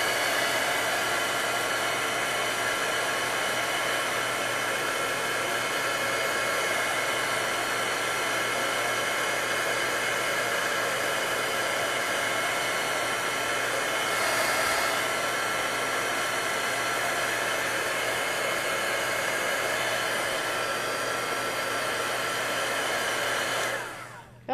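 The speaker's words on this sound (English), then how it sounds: "I'm gonna hit it with the heat tool to make it dry a little faster." An embossing heat gun blows steadily on wet ink, a loud continuous hair-dryer-like whoosh that holds evenly for over twenty seconds before clicking off at the end.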